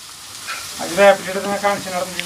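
Thoran tipped into hot oil with popping mustard seeds and dried red chillies, giving a loud close sizzle and frying hiss with a brief stir, for a home-cooked Kerala sadhya.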